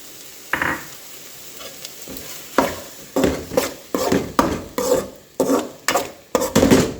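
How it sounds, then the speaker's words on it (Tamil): Ground tomato, onion and pepper paste frying in a pan for mutton keema, with repeated scraping stirs and bursts of sizzle landing roughly every half second, close and fairly loud, with no voices. "இப்போ நம்ம அரைச்சி வச்சுருக்கிற தக்காளி, வெங்காயம், மிளகு அதை சேர்த்துக்கலாம்"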